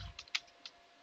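Keystrokes on a computer keyboard entering an lsof command in a Linux terminal: a few quiet, separate clicks spread over about a second, with no talking.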